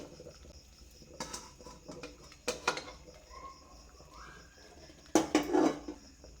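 A metal pot lid clanks as it is lifted off a cooking pot of food, a few faint sharp metallic knocks and scrapes in a quiet kitchen, with a louder clatter near the end.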